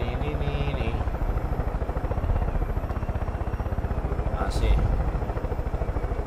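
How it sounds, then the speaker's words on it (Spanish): Helicopter in the video game Far Cry 5 with its rotor chopping loud and continuous, a fast, steady pulsing throb up close, with someone speaking briefly over it. "me voy otra vez en el helicóptero"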